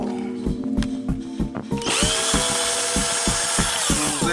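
A power drill backs screws out of a car radio bezel, with rhythmic clicking bursts at first, then a loud continuous whirring drone with a rising pitch, close and alone.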